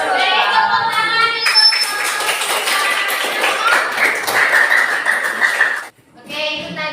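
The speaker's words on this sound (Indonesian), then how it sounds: "Kita beri applause dulu, tepuk tangan." Classroom clapping for a student presentation, a dense patter of many hands running steadily for several seconds, then cutting off abruptly before a short burst resumes.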